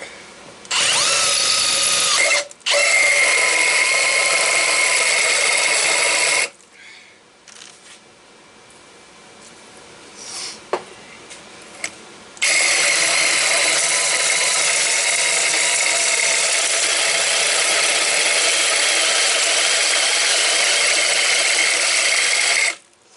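A hole saw spinning through steel tubing clamped in a vise with cutting oil gives a loud, steady grinding whine. Two short bursts come first, then a pause with faint clanks and handling, then one long uninterrupted cut.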